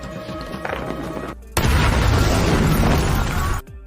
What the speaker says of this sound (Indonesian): Mary dan Mes membuat keributan dan melempar bom.